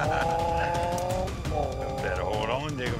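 An outboard boat motor revs and drones steadily on a Louisiana swamp, its pitch rising and wavering as the boat accelerates, loud and close with voices shouting over it.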